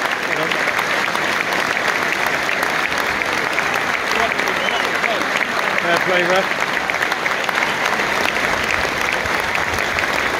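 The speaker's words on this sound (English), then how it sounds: "Even the refs clapping." Steady crowd applause fills a football stadium during the Exeter City against Hartlepool match, a dense continuous wash of clapping with a voice talking briefly over it.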